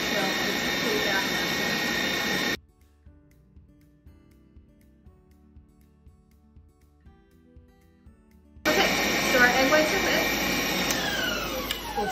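A stand mixer whips Italian meringue for macarons with a loud, steady high whir, cuts off to near quiet for several seconds, then roars back at full speed.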